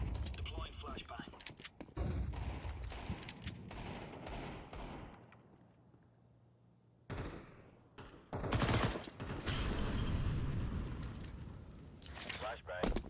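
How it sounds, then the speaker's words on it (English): A flashbang grenade goes off in a Counter-Strike 2 match amid loud bursts of gunfire and heavy thuds, with a quieter stretch in the middle before the shooting resumes. "Throwing flashbang. Deploying flashbang."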